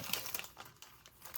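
The sealed plastic wrap on a Hobonichi planner package crinkles and tears, a faint, brief run of papery rustles and small crackles.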